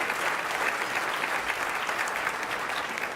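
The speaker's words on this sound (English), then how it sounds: "A round of applause, please, for one of Australia's fashion pioneers" Dense, steady applause from a gala dinner audience honouring an Australian fashion pioneer at a business awards presentation, loud and even throughout with no break.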